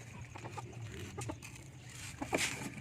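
A hen, one of a flock kept alongside Rhode Island Reds, gives soft scattered clucks at low level over a faint background hum, with a slightly louder call near the end.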